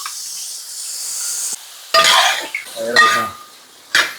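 Three kilos of cleaned chicken dropped into a pot of masala and stirred, with scraping and clinking of a metal spoon against the vessel in several bursts over a soft sizzle.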